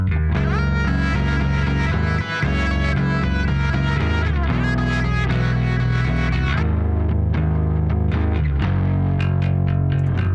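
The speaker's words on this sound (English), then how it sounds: "Now, if I add the bass part in with those two guitar parts," Bass guitar joins two layered electric guitar parts with a chunky delay, all distorted and loud, a full continuous band texture with deep low end running throughout.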